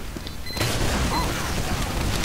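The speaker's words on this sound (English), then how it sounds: "Of course they get hit by a grenade." A grenade explodes in a Team Fortress 2 match, a sudden dull boom rising out of steady game noise and rumbling on under the ongoing battle clamor.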